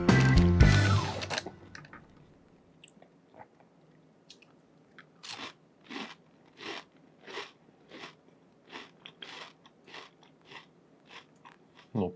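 Several people crunching and chewing crisp snacks, with bites and crunches recurring in a steady, close rhythm after a loud opening burst.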